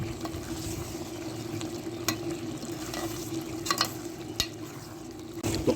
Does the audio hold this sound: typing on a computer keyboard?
no